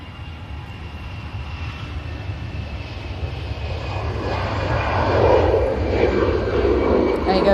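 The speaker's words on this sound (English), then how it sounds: "We do have an EasyJet now departing." An EasyJet airliner departs Manchester Airport as a low engine rumble that swells louder toward the end, with someone talking over it.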